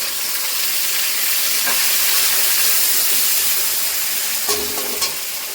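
Tomato, grated ginger and green chillies fry in a pan for a papaya curry, making a loud, steady, close-up sizzle and hiss that continues throughout, with a couple of faint clinks near the end.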